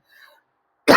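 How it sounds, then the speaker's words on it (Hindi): A single sharp cough bursts in loud and close at the very end, after a faint murmur of voice early on. "चलिए खांसी हो गया"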